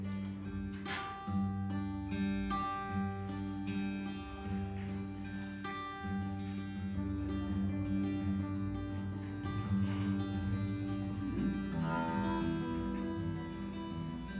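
Guitar strings hit in a steady rhythm during a beginner guitar class, sustained chords ringing continuously and fairly loud with no talking.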